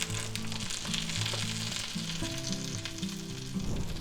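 A cheese omelette cooks in a frying pan with a continuous, even sizzle over a soft melodic tune in the background.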